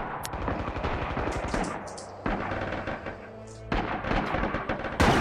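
Gunfire in the shooter game Red Orchestra 2: Rising Storm: a dense run of rapid shots, then sharp loud cracks and bursts that punctuate steady background battle noise, with no talking.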